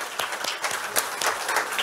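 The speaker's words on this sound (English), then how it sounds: "Give her a warm applause." A room full of conference attendees claps warmly for a presenter, a dense, steady patter of many hands lasting a couple of seconds with no voices over it.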